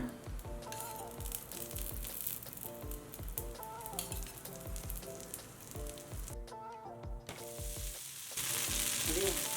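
Horse gram dosa batter fries in oil on a medium flame, giving a continuous crackling sizzle beneath a rhythmic, tonal musical backing, growing louder near the end.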